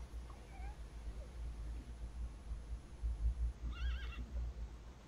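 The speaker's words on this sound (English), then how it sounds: "I meant to take the horse out for a ride" In the video game The Thaumaturge, a horse gives a short whinny partway through, heard over a low rumbling ambient background with faint scattered sounds.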